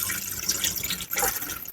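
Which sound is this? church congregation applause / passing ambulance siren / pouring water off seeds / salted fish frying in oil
pouring water off seeds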